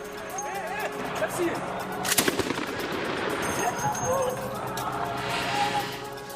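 Rapid gunfire crackles through street footage from Aleppo, Syria, in steady bursts with one sharp, louder volley partway through, set against a noisy outdoor background with indistinct voices.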